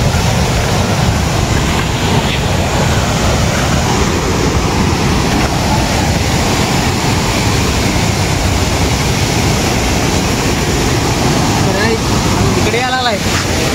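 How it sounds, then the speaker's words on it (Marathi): Sawatkada waterfall pours in a steady, loud broadband roar that runs unbroken throughout, with a brief whistling or chirping sound near the end. "तुम्ही बघू शकताय हा तिसरा धबधबा आहे."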